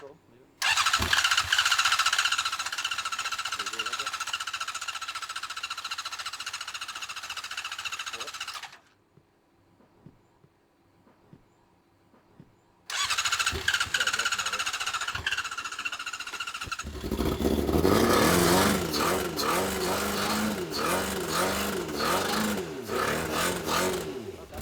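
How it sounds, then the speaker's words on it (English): A car engine fires up after a pause and then runs loudly and steadily, with a rough, revving tone that builds toward the end; people talk intermittently over it. "Good to see it running in the car finally."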